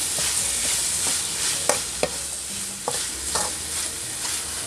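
Pickled bamboo shoots stir-fried with kaffir lime leaves in a pan: a steady close sizzle with repeated scraping clicks of a spatula stirring, no voices.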